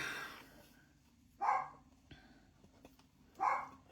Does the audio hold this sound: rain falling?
no